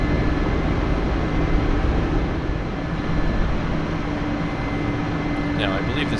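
Mi-24P helicopter in the DCS flight simulator, its engine and rotor noise forming a loud, steady broadband roar with a constant drone that runs unbroken throughout, no talking over it.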